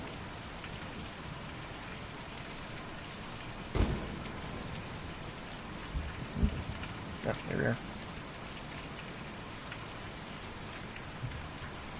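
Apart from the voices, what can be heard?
heavy rain in video game Kentucky Route Zero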